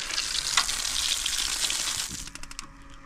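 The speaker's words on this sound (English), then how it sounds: "All right, water cycling through, that's always a good thing." Water cycling through a Kakadu portable outback shower unit gives a steady, close broadband rushing hiss for about two seconds, then breaks into sputtering bursts and drips as the flow falters.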